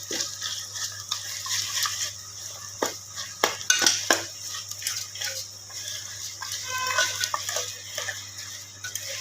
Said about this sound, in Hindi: इस तरह से प्याज और कीमा को साथ भून लेंगे